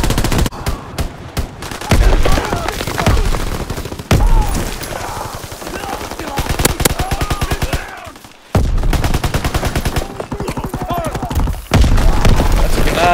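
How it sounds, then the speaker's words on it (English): A grenade blast amid heavy gunfire in Call of Duty WWII, with loud dense volleys and bursts that drop out briefly before resuming, close and chaotic, with voices talking over the fighting. "That's a grenade."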